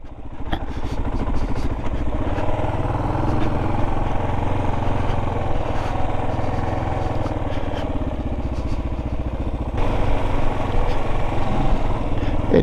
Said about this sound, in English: Oh, this bike handles this off-road nicely.